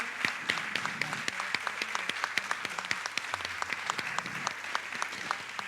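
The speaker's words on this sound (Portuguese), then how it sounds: "eu peço um forte aplauso porque está aqui na plateia" Audience applause from a seated crowd at a morning debate, steady moderate clapping from many hands, fairly distant and even throughout.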